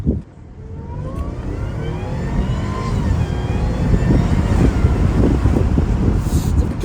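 An Audi Q7 SUV engine with a custom intake roars steadily, building slightly in intensity with a throaty, rumbling drone, close and loud throughout.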